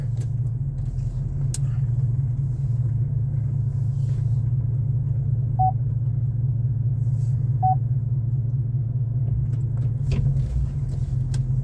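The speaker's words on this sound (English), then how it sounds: "Truck's beeping at us, telling us that there's a horse behind us." A parked truck's warning beeper gives two short, clear beeps a couple of seconds apart while a vehicle engine rumbles steadily underneath.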